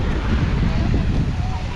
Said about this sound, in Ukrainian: Надіюсь, вітер не завадить мені зняти це відео, бо дуже-дуже вітряно на вулиці.